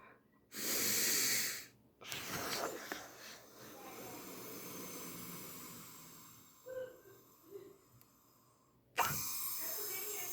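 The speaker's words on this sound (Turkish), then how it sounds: "burundan derin nefes alıp" A person drawing a deep breath in through the nose, a sharp sustained inhalation at close range, followed by quieter breathing and another short intake near the end.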